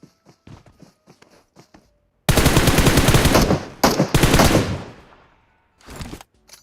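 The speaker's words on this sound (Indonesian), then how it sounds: "gue nembak aja Bang Ai" Automatic gunfire in PUBG Mobile: a long, loud rattling burst, then a brief pause and a second burst that fades, with a short final volley after a few soft footstep-like clicks.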